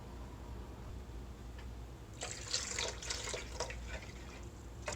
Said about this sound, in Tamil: இன்னும் கொஞ்சம் தண்ணி ஆட் பண்ணிக்கலாம்.